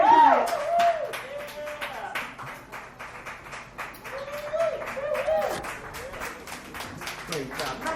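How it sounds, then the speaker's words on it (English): Steady crowd applause and clapping at a dive bar comedy show continue throughout, while someone talks loudly over them. "Another round of applause for this wild."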